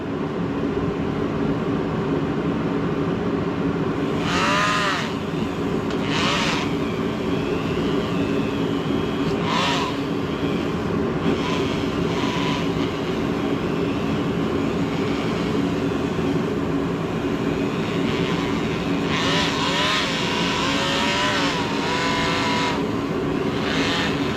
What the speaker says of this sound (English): I've got my wire wheel back on the Dremel, and we're just going to continue trying to get any of this loose rust out of here